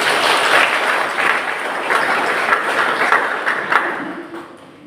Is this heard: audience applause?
yes